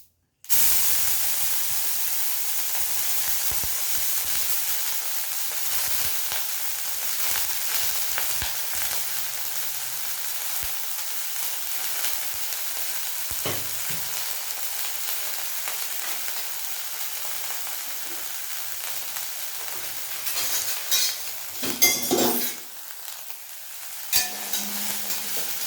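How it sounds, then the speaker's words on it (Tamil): Prawns fry in coconut oil in a dry pan over medium heat, a steady close sizzle running throughout with a few louder spits and stirring bursts near the end. "இதை நல்லா பிழிஞ்சிட்டு நம்ம எண்ணெயில் வறுத்து எடுத்துக்கணும்."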